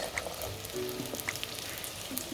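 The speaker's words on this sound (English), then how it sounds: "Let's fry this onion to little slightly a brown color. Saute the onions." Onions sautéing in a clay pot for vegetable dum biryani, a soft steady sizzle with light crackles, fairly quiet and alone.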